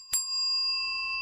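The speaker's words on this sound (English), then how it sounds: "just a bell" A single sharp strike on a mechanical bell, its plunger-driven hammer hitting once, then a clear metallic ring with steady overtones that sustains and slowly decays, loud and close with no other sound.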